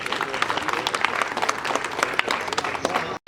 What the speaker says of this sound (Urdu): پرزور تالیاں آپ کی طرف سے